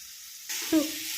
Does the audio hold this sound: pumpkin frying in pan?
yes